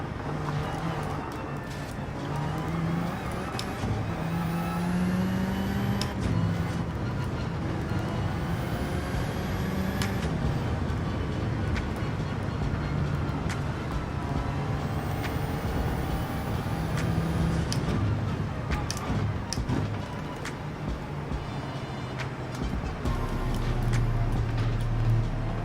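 A low, droning car engine in the racing video game Gran Turismo 7 rumbles steadily throughout, with a heavy bus-like tone, occasional hisses and shifting pitch as it revs.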